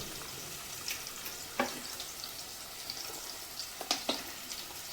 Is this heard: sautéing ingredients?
yes